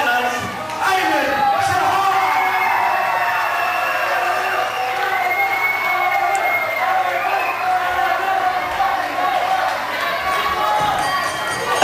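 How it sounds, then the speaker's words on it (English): Wrestling fans at Buckland Community Centre clap and cheer in a steady, dense wash of crowd noise lasting the whole stretch, with someone talking over it. "getting those fans clapping to an adoring reaction from the fans here at Buckland Community Centre"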